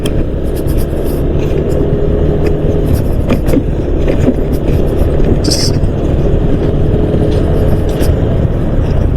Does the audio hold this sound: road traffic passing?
yes